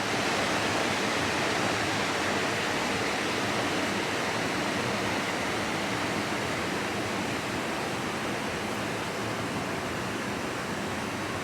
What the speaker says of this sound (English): then we'll take a look at that water runoff. Sounds to be flowing pretty good over there,